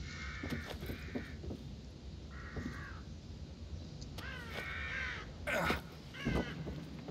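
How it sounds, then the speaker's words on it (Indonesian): Several harsh crow caws ring out in short bursts, some spaced apart and some in quick pairs, over a low steady background hum, in the video game The Evil Within. "burung gagak"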